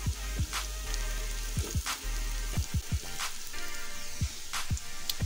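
Onions frying to golden for chana pulao, a steady close sizzle with occasional sharper pops and stirring scrapes, no voices.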